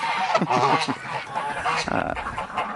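Canada geese honk on a farm, several nasal calls in quick succession close by, with a person's voice talking over them.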